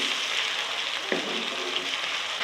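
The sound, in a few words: tomatoes frying with garlic and ginger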